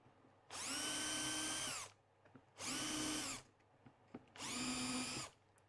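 A power drill boring 2.5mm holes for screws, three sustained whines of about a second and a half each with short pauses between, close and steady in a quiet workshop.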